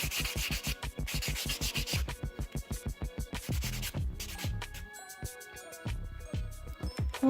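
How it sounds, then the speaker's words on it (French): A white buffer block rubbed briskly back and forth over a gel nail, producing rapid rhythmic scratchy strokes, close and steady, then slowing into longer passes. "prenez votre bloc blanc et vous allez passer sur tout l'ongle pour casser un peu les coups de lime"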